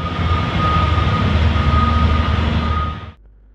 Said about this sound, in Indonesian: Underground mining truck atau truk tambang bawah tanah adalah kendaraan khusus